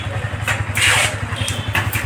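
A Yamaha R15 V4 sport motorcycle engine runs close by with a steady, pulsing low thrum and a few quick throttle blips rising over it.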